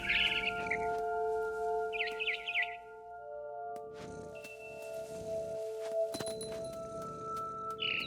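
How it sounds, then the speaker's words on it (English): Barn swallow chirps from What Remains of Edith Finch, a bright twittering burst at the start and another about two seconds in, over a steady tonal game ambience with soft rustles and clicks. "Then I heard chirping outside my window. It was a barn swallow going back to her nest."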